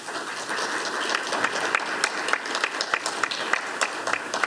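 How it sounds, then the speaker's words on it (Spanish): Audience applause fills a conference hall after a museum-discourse lecturer is introduced, a steady dense clatter of many hands clapping, close and continuous with sharper individual claps standing out. "por la doctora Margarita Mas Moreno, para quien pido un aplauso"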